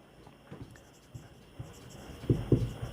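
Scattered marker or chalk strokes on a board during a chemistry lesson, a few soft scratchy taps building to two firmer strokes near the end, close, with faint talk.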